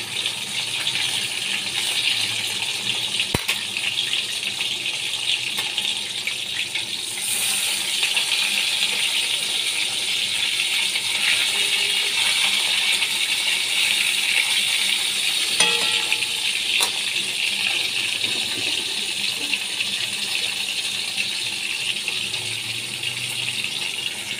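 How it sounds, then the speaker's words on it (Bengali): Pieces of bhola fish rubbed with salt and turmeric fry in hot oil, giving a loud, steady sizzling hiss throughout with occasional faint clinks. "ভোলা মাছ আমি ভালো করে ধুয়ে নুন হলুদ মাখিয়ে রেখেছি। এবার আমি ভালো করে ভেজে নিচ্ছি।"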